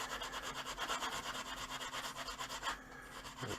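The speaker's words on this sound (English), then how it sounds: "This area right here needs polishing. And how to do that is, see this scuff pad." Scuff pad rubbed back and forth over a Kel-Tec P-11 pistol part to polish it, a steady close rasping scrub with quick repeated strokes that pauses briefly near the end.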